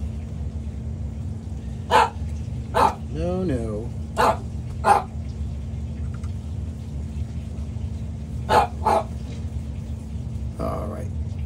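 A dog lets out a handful of short, sharp barks spaced several seconds apart over a steady background hum, with a person speaking briefly between them.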